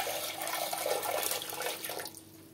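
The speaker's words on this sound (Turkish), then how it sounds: "Şimdi üzerine su döküyoruz." Water is poured into a pot over canning jars, a close, steady rushing splash that fades out toward the end.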